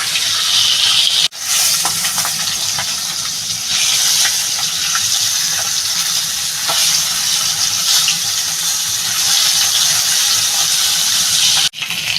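Pieces of rohu fish sizzle and spit in hot oil for a Bengali fish curry, a loud continuous crackling hiss that runs steadily for several seconds with brief breaks.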